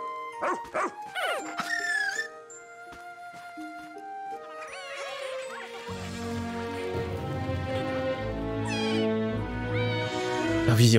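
A big dog creature in the video game Pikmin 4 lets out several whining, sliding barks and yelps, followed by dense layered game music and effects.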